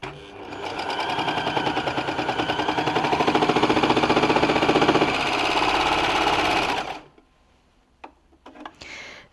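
A baby lock Enlighten overlocker stitches stretchy jersey fabric in a fast, rhythmic mechanical whirr with ticking needle beats for about seven seconds, then stops abruptly, leaving faint clicks and quiet handling noises.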